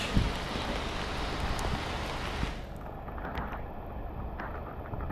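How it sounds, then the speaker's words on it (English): Pouring rain on a bicycle trip through Taiwan, a broad steady hiss of heavy rainfall with rough wind-buffeting on the microphone, loud at first then slightly muffled, with no talk. "Pouring rain"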